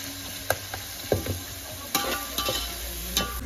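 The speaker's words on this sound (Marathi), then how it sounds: "अख्खे मसाले टाकलेत आणि कांदा आणि मिरची आपण थोडस परतून घेऊया" Whole spices (cumin, bay leaf, black pepper, cloves, cinnamon) with onion and chili sauté in oil in a pot on a wood-fired stove for chicken biryani: a soft sizzle under sharp scraping and clinking stirs at irregular intervals.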